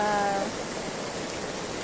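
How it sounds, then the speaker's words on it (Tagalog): Heavy rain pours steadily over a cemetery burial in a dense, even hiss with no breaks. A faint tonal sound sits briefly in the background at the start. "napakalakas ng ulan po ngayon dito"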